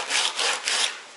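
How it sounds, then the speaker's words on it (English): Three rhythmic rasping strokes of sandpaper rubbing back and forth over a hard polystyrene surface, close and fairly loud. "I gotta sand this side"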